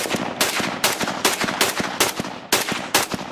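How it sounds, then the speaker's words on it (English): An AK-pattern rifle, a kit build on an East German DDR MPI-KM parts set, fires outdoors in a steady rhythm of sharp, loud shots, about eight evenly spaced reports with no talking. "we just finished up test firing this AK. It's a kit build from an Apex East German DDR MPI-KM"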